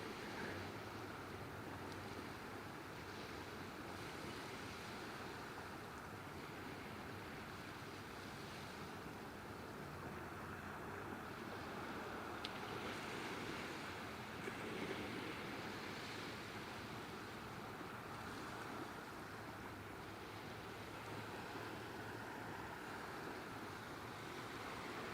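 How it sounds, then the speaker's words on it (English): Ocean waves crashing on a rocky shore at Mission Point, a steady broad roar of surf with wind noise on the microphone, continuous and fairly distant. "Nice with the waves crashing though, isn't it?"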